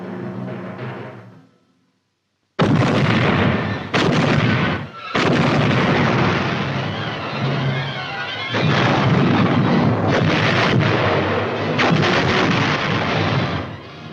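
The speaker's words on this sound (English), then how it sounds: "placed our artillery and commenced firing at WWII Island" Heavy World War II artillery fires on a small island off the New Guinea coast. Loud booming blasts follow one another with short gaps, and each blast leaves a rumbling roll that fills the scene.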